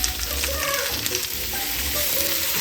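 Chopped greens with a little salt sizzle loudly in a hot pan, a dense, steady hiss with light crackles and stirring scrapes, close and without speech.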